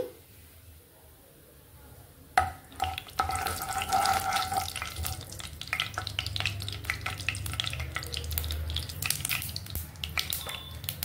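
Mustard seeds and cumin fry in hot oil in a pan for an egg potato curry, a steady close sizzle with crackling pops that sets in after a brief sharp clatter.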